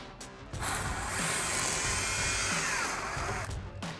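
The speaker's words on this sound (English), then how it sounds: "So we're gonna grab our impact and 21 millimeter socket and take that out." An impact wrench with a 21 mm socket on a track bar bolt of a RAM 1500 pickup whirs in one sustained burst of about three seconds, close and fairly loud, with short bits of tool noise before and after.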